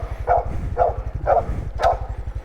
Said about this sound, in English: And there's my obedient, loving dog